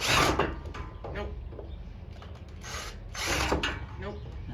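A power drill bores into a DIY roof rack mount in short bursts, whirring up and stopping, with a louder run toward the end and quiet gaps between.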